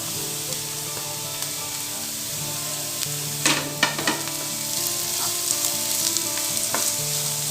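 Carrot and capsicum sautéing in a pan, a steady close sizzle with a few scraping stir strokes in the middle and no voices.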